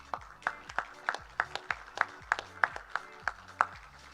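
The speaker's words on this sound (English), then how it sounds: "And as they enter, let's give them another round of applause." Applause for pageant contestants entering the stage at a Miss and Jr. Miss Cherokee competition, heard as evenly spaced, fairly close claps with a steady rhythm and light background noise.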